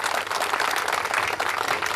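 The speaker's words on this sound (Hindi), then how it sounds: "मैं चाहता हूं इस साहस के लिए एक जोरदार ताली" Dense, loud applause from an audience at a village gathering, a continuous wash of many clapping hands with no break.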